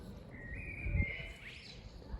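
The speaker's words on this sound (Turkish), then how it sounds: "şimdi kuş sesini dinleyin" A faint bird whistles a thin drawn-out note followed by a quick rising chirp, distant over low background rumble and a brief thump.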